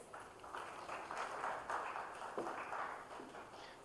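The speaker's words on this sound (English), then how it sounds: "Let's give him a round of applause" An audience at a data center launch event applauds to welcome a guest speaker, producing a steady, dense wash of clapping that holds at a fairly even level for about four seconds.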